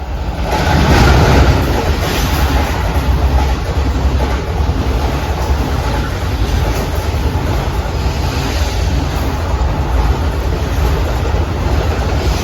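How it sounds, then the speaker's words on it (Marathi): A DEMU train runs along a coastal line in Goa between Kulem and Vasco da Gama, a loud, steady rumble and rattle of wheels on track close by, with no talk. "समोर ट्रेन गेली, आता ही पण हळूहळू जाईल."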